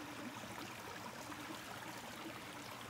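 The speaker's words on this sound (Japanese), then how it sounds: "水の音聞こえますか？" A stream flowing outdoors beside a campsite on a cold, sunny day, giving a steady, even rush of water at moderate distance with no voices.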